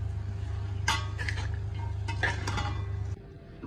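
Masala bhindi (okra) being stirred in a pan with a spoon, a few scraping clinks over a low steady cooking hum, then the hum cuts out near the end.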